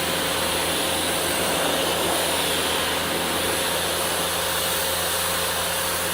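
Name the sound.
pressure washer spraying a car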